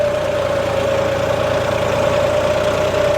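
A tractor engine struggles to pull with four-wheel drive off, close and steady with a strong sustained drone and an uneven knocking rumble, alone with no voices.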